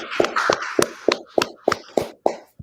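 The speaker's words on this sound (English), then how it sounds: "clap it up" Sparse, rhythmic hand claps at a Thursday scripture gathering of the Israelite School of Universal Practical Knowledge, about nine sharp, evenly spaced claps with a faint voice or murmur between them, sounding like a few people clapping together.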